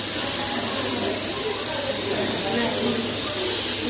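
Tomato and garlic paste for chutney sizzles and fries in a kadhai, a steady loud hiss throughout with soft bubbling underneath.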